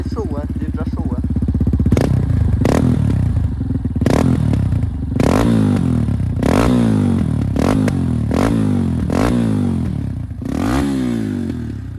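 A 2014 Yamaha Raptor 250 quad with an FMF exhaust line, already warm, idles with a rumble, then takes about eight sharp throttle blips in a row. Each rev rises and drops back quickly, loud and close.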